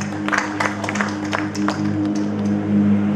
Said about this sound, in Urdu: آپ کی بھرپور تالیاں